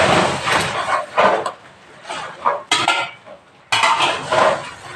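Batter with date palm jaggery is stirred in a bowl, a spoon scraping and clinking rhythmically against the sides, close and fairly loud, in short bursts with brief pauses.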